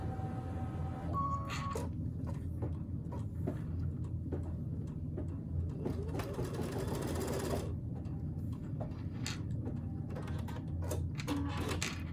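An embroidery machine stitches out quilting stitches in a fast, steady mechanical chatter, close and continuous, with no one speaking.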